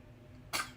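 A newborn baby girl gives a single short sneeze, a sudden close burst after a moment of near quiet that fades within a fraction of a second.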